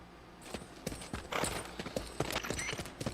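Hooves of an old horse clip-clopping in the video game Peace Walker, an uneven series of hollow knocks close by, with a brief whinny-like burst in the middle.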